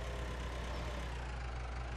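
Tractor engine idling in the farming game Farming Simulator 17, a steady low droning rumble that holds level for two seconds with no variation and no voices.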